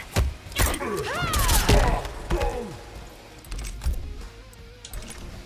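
Rapid gunshots from Cassie Cage in Mortal Kombat 11 crack in quick bursts, mixed with punchy fighting-game impacts and whooshing effects, loud and close.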